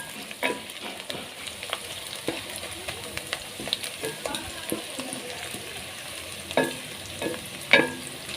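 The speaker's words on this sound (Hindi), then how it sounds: "प्याज को अच्छे तरीके से ब्राउन करना है।" Onions browning in a hot pan for an aloo gosht curry, a steady frying sizzle broken by several scraping stirs of a spoon, close and moderately loud with no talking.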